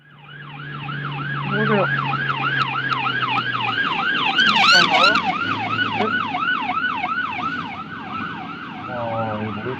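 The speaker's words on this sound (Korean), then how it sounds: "구급차, 구급차 맞아요." An ambulance siren wails nearby in a fast repeating up-and-down sweep, loud and steady for several seconds, with a short spoken word in the middle.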